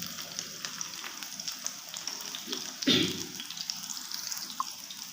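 Chapli kebabs fry in a pan over a low-medium flame, giving a soft, steady sizzle with a brief louder clatter partway through.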